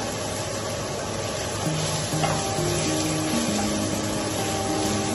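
Garlic and ginger sauté in a pan for a fried fish dish, giving a steady, close, broadband sizzle that holds constant throughout without any talk.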